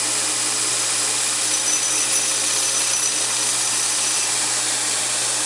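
A power grinder takes the sharp corner off a forged blacksmith chisel, producing a loud, continuous whine that stays constant and close from start to finish.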